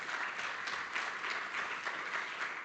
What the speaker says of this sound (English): I think the audience and we all can agree that we applaud you to that